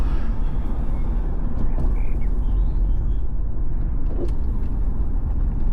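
A BMW E36 M3 engine rumbles steadily from inside the cabin, a loud, constant low drone with road noise and no talking.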